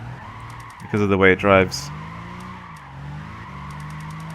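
Tyres of a Nissan GT-R skid and squeal in a brief loud burst while drifting with the handbrake in Gran Turismo 5, over a steady engine drone, with someone talking before and after.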